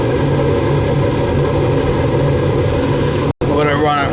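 A gas furnace burner runs after igniting during a furnace swap, making a steady, loud low roar and hum that cuts out for an instant near the end before resuming.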